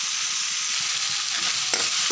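Tomato, onion and spices fry in a pan with a steady, close sizzle, a few soft stirring scrapes breaking through near the end.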